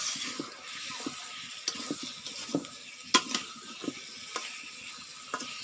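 Spices stir-frying in a pan, a steady sizzle beneath repeated sharp scrapes and taps of a spoon against the metal, close and moderately loud, with no talking.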